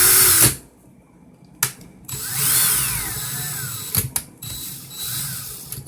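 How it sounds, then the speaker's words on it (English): A handheld power drill whirs in reverse while twisting fine Clapton coil wire for a vape build, running in short bursts with sharp clicks and a whining pitch that rises and falls between pauses. "So I got my drill in reverse."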